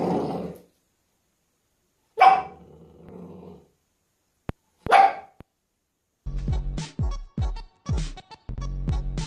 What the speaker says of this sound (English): There's this dog that has eyebrows, so it looks like it's always incredibly sad.